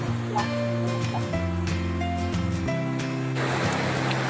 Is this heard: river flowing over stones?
yes